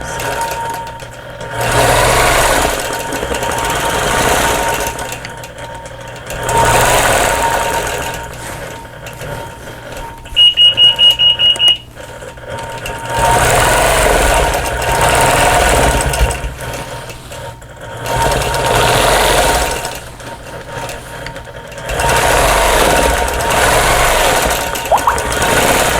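A sewing machine stitching in the ditch along the pieced borders of a vintage sampler quilt, running in several loud, steady bursts separated by short pauses, with a brief beep midway.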